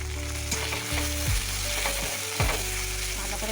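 Ground cumin, coriander, chili and turmeric with salt and bay leaf frying in a pan for a bora curry, a steady close sizzle broken by scraping stirs.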